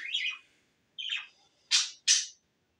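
Pet budgerigars chirping nearby, four short, bright calls, the first two wavering and the last two sharper, separated by brief silences, with no voices.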